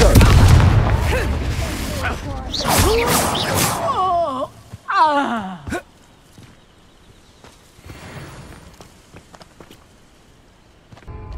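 Reducto blasting spell in Hogwarts Legacy: a cluster of loud, sharp booming blasts near the middle, mixed with grunting, vocal-like effects and game noise, then quieter thuds and rustling in the second half.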